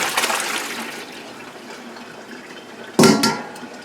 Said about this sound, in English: I'm going to strain my water out so the temperature doesn't drop too drastically